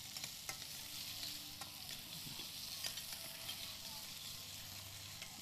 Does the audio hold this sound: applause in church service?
no